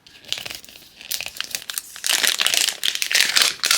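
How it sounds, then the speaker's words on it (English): A Mini Brands capsule is torn open along its side by hand, a close crackle of crinkling and ripping wrapper that comes in short bursts and grows louder and denser toward the end. "we're going to cheat here and just rip it along the side"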